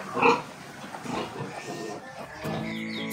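A mother pig grunts while nursing her newborn piglets, with soft snuffling grunts in short bursts and a louder one near the start, mixed with a person talking nearby.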